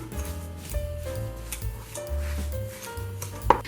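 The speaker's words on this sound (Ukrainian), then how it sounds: "Перетираємо виделкою цукор із сиром." Close, steady rubbing and scraping of a fork mashing sugar and vanilla sugar into cottage cheese in a bowl, repeated strokes over quiet background music.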